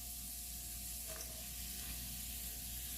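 Onions and peppers frying in a hot pan, a dense, continuous sizzle that holds steady throughout, close and fairly loud with no voices.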